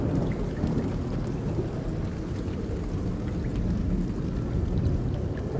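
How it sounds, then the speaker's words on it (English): Steady heavy rain pours throughout with deep rumbling thunder rolling underneath, a dense continuous wash of sound with no voices, in the video game Life is Strange: True Colors. "All I hear is rain."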